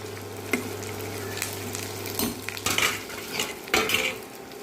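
Ivy gourd (tindora) stir-fried in a pan with salt: a spoon scrapes and clinks against the metal in irregular strokes over a steady low sizzle, close and moderately loud, with no voices.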